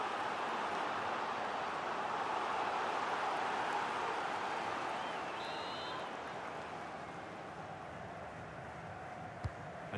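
A stadium crowd cheering in the football video game EA Sports FC 24 during a Europa League match between RC Lens and SC Freiburg, a dense continuous roar that eases slightly toward the end, without clear talk.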